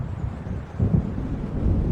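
A storm approaches in Alan Wake Remastered with a low, rumbling roll of thunder swelling midway, mixed with wind noise and no talking.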